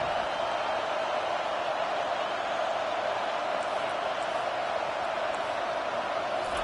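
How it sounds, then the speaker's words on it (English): A packed Penn State football stadium crowd roars steadily for the defense, a dense, unbroken wall of cheering that holds at the same level throughout. "Listen to this crowd just shaking the girders of this place"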